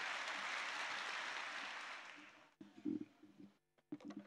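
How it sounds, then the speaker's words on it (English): An audience at a closing political rally claps for a speaker taking the stage, a full burst of applause that fades out over about two seconds, followed by quieter low murmurs and bumps. "So, round of applause for Gyekye Tanoh."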